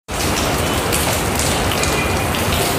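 Heavy rain pours down in a dense, loud, continuous hiss that starts abruptly and holds steady without pause, with no voices.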